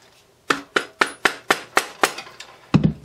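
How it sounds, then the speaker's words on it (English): A ratchet extension is hammered into the magazine tube of a Remington 1100 shotgun, giving about nine sharp metallic strikes in a steady rhythm of roughly four per second. A heavier thud follows at the end. The blows are close and loud, with no talk. "hammer it down a little bit"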